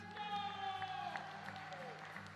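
Spectators at a para shooting world championship rifle final clap at a moderate level in a brief, steady patter, heard under a sustained tone and faint background chatter.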